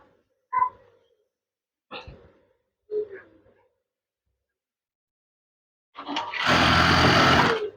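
Sewing machine stitching a curtain valance, a few short mechanical taps first, then a loud steady whirring run of stitching close by at the end.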